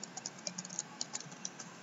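Fast typing on a computer keyboard comes through as a quick run of light, close clicking keystrokes with uneven rhythm, lasting under two seconds.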